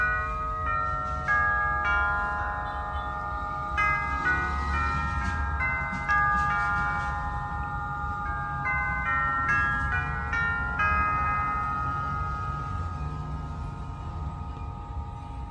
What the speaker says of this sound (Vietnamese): Bây giờ em sẽ cho các bác nghe tiếng chuông của chiếc đồng hồ này.